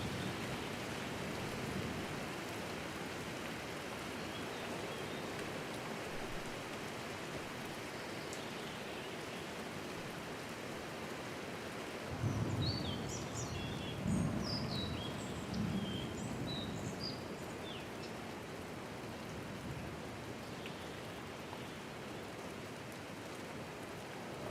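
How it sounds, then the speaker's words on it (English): Steady rain ambience in the outdoor game Open Country, a dense even hiss of falling rain with a few soft low thumps and faint chirping birds in the middle, continuous and without speech. "I love the ambient noise. I love the rain"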